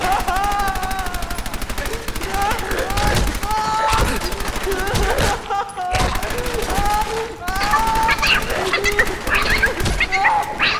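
Automatic weapon fire in Fallout 4 rattles out in long, rapid bursts with brief gaps between them, loud and close, while people talk over the shooting.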